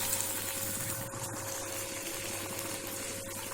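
Hot water streams steadily into a cooking pot for a sour lemon fish curry, a continuous soft gush at low volume.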